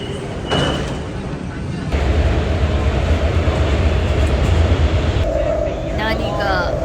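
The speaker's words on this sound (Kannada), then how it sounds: "ನಾನೀಗ 7 ಲೈನ್ ಮೆಟ್ರೋದಲ್ಲಿದ್ದೇನೆ." A Wuhan Line 7 metro train carries riders along, with a steady low rumble and broad rolling noise close by and continuing throughout.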